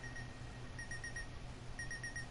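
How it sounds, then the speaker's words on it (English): Beeping from The Backrooms video game, a quiet electronic alarm-like tone pulsing in short bursts of repeated beeps, with a pause between two clusters over a low background hum. "God, that beeping is so good."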